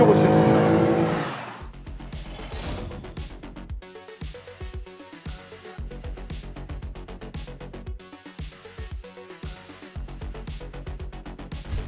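A BMW M3 Competition G80 RWD drives past close and loud at first, then its engine settles into a rhythmic, pulsing drone with shifting revs and tire noise under music.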